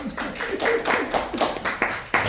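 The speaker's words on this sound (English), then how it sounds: "now I'll say thank you, and you guys can clap" A workshop audience claps in a short, uneven patter of overlapping hand claps, close and moderately loud, fading into scattered final claps.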